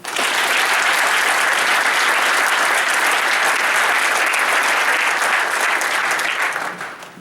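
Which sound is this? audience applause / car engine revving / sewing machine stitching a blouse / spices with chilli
audience applause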